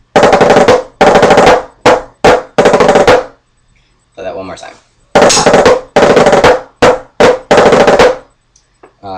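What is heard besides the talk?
drum phrase with flams from the rudiment Assembly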